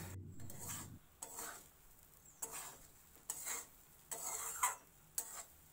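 A utensil scrapes and stirs a thick lentil mixture in a wok, in a handful of short, irregular strokes, close up with no talking.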